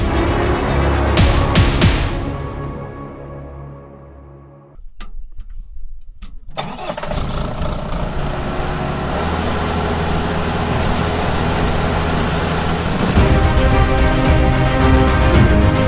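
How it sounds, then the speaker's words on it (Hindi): Engine of a Mahindra Paddy Harvester 2100 combine: loud machinery noise cuts out briefly, then the engine starts and runs as a steady heavy rumble that grows louder toward the end, with no speech. "आप भी मिलिए मेरे महिंद्रा पैडी हार्वेस्टर 2100 से।"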